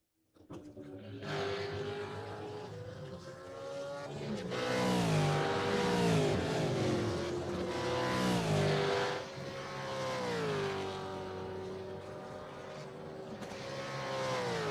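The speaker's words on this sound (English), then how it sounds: "Just allowing Grayson to go flying past, and he's got a car number 10" A Commodore race car sweeps past on the Manawatu Car Club circuit during winter series practice, its engine note rising as it nears, peaking loud and close, then falling away as it passes into the distance.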